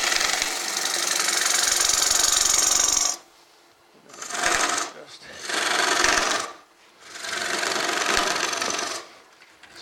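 Wood lathe hollowing a soft basswood bowl: loud broadband tool cutting in bursts, a long continuous pass followed by three shorter cuts separated by brief pauses, with nearby talk.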